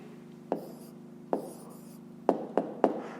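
A pen or pencil writes an answer to a fifth-grade math problem on paper, making a few separate scratchy strokes: two spaced ones, then three quick short ones close together, all near and quiet.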